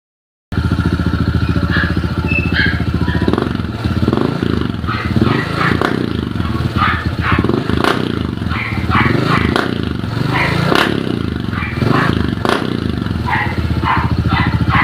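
A Honda PCX scooter with a converted exhaust pipe idles loudly and steadily close by, a continuous rough drone that carries through the whole stretch with no talk over it.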